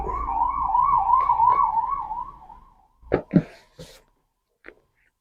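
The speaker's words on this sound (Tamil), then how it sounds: "ஆம்புலன்ஸ் போகுது" An ambulance siren wails steadily in a wavering tone, then fades out and gives way to a few nearby knocks and rustles.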